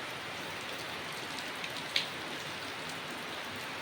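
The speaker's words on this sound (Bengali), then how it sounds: "বৃষ্টি পড়ছে জোরে আসলো বৃষ্টিটা" Heavy rain pours down steadily outside a home, a dense even hiss throughout with a single sharp drip or tap near the middle.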